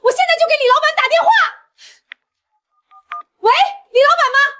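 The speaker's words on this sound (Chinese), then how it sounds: "你给我等着，我现在就给李老板打电话" Short electronic keypad tones from a telephone being dialed, several separate faint beeps sitting in a quiet gap between loud, angry speech before and after.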